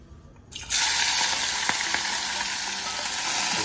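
Seeds dropped into hot oil for Jamaican ackee and saltfish burst into a loud, sudden sizzle after a brief quiet start, then keep up a steady hiss with a few small pops.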